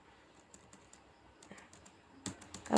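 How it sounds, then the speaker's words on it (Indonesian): A few quiet, separate taps on a computer keyboard's space and enter keys, close and soft, ending in a slightly louder cluster of clicks. "Untuk melihat output dari ini, kita bisa spasi atau enter."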